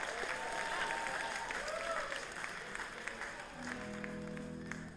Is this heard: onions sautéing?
no